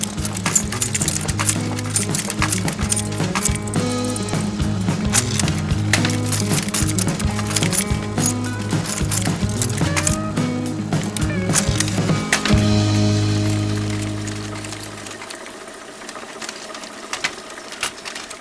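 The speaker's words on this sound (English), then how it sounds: "A linotype is a great means of speeding up the production of typesetting." A linotype typesetting machine runs with dense rhythmic mechanical clatter, metallic clicks and repeated thumping cycles, close and loud, then winds down and stops near the end, leaving only faint scattered clinks.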